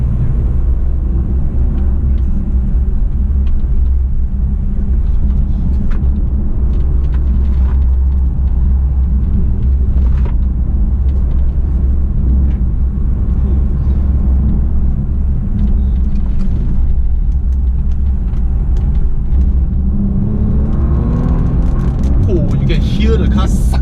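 A 2019 Bentley Continental GT W12 drives along with a steady, deep engine and road rumble inside the cabin, building slightly toward the end as a voice talks over it.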